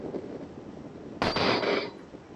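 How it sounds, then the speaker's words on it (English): A rifle is fired at a coyote during a predator hunt with a Pulsar Digex C-50 infrared scope, giving one loud, sharp report with a short echo, heard nearby over quiet outdoor background. "Here we go. Time for the shot."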